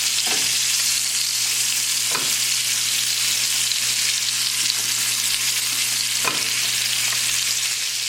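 Pork chops frying in oil in a pan, a loud, dense, continuous sizzle filling the scene close up, with a few sharp spatters or utensil taps standing out and no voices.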